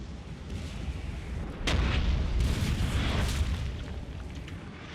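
Cannon fire in a video game battle, canister shot against musketeers: a dense, rumbling roll of booming shots that swells loud partway through and holds, with no talk over it.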